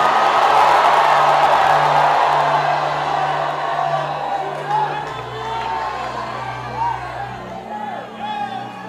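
A church congregation roars back a loud, sustained crowd shout that gradually fades into lingering cheers and scattered whoops, with a low organ-like tone droning underneath.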